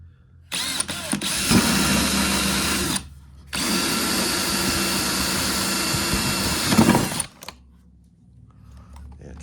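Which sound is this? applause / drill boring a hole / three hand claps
drill boring a hole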